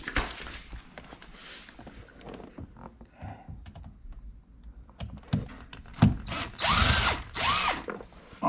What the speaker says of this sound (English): Remove these 2 screws for the steering cover, and one more at the bottom.